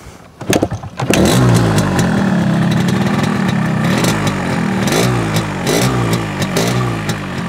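An RX King motorcycle engine cranks and fires up after a brief quiet start, then runs loudly and steadily with occasional throttle blips, close by.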